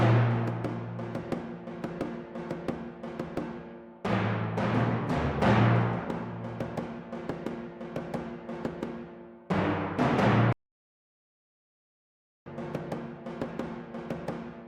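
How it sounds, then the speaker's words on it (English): Hand thumb percussion plays with timpani in an orchestral music track, in full resonant passages broken by abrupt cuts and one stretch of silence before the music resumes. "But together with the timpani you'll hear the context."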